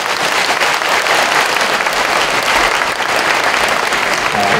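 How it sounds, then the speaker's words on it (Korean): A congregation of pastors at a Korean church seminar gives a loud, thick round of applause to the lecturer, many hands clapping continuously at full volume throughout. "다시 한번 박수 한번 보내드립니다."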